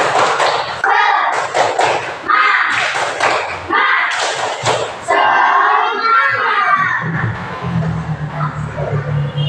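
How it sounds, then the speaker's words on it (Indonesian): Schoolchildren in a classroom doing a rhythmic clapping cheer together, loud bursts of claps and shouted voices in a group chorus, close and energetic, with talking and chanting mixed throughout. "Kita bareng-bareng tepuk semangat. 1, 2, 3, tepuk semangat."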